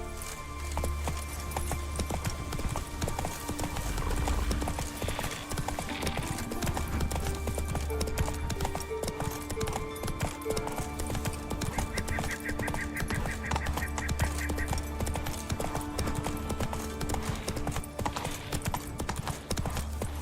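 Horse hooves gallop in a steady clip-clop rhythm in the video game The Witcher 3: Wild Hunt, close and continuous over a low ambient game soundscape with faint musical tones, without talking.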